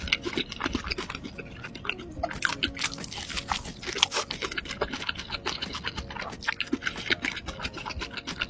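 Eating a hash brown chicken burger, with close, wet crunching and chewing bites in an irregular rhythm and no talk.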